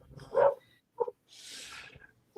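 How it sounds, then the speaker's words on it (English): Dog barking, a few short barks at varied distance, with quiet gaps and a faint hissy noise between them. "I heard that dog barking."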